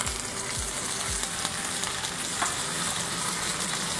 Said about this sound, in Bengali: এবার দিয়ে দিচ্ছি কালো সর্ষে, দিয়ে দিলাম কারি পাতা